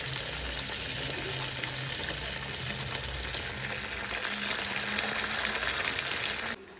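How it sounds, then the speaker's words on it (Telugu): Chicken pieces for homemade chilli chicken fry in hot oil, a steady loud sizzle and crackle throughout, with a brief spoken word near the start. "ఇవైతే ఫ్రై అవుతున్నాయి"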